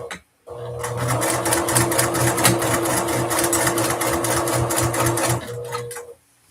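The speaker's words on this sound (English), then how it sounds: "And we're sewing the princess seam." A sewing machine stitching the princess seam of a dress, running in one steady burst of rapid, even needle clatter for several seconds before stopping, with no talk.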